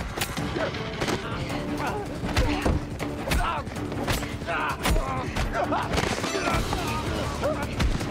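Gunfire in an action film, including sniper shots, comes as dense bursts of sharp cracks and heavy thuds throughout. It sits within a busy, loud soundtrack with a voice talking over it.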